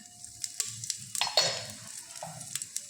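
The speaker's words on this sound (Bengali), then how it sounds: "প্রেশারের মধ্যে সর্ষের তেল দিয়ে এবারে আমরা গরম মশলা, তেজপাতা, জিরে আর শুকনো লঙ্কা ফোড়ন দেবো" Whole spices, bay leaf, cumin and dried chillies sputter in hot mustard oil in a pressure cooker, giving a close, steady sizzle with scattered sharp crackles and pops, alone without talk.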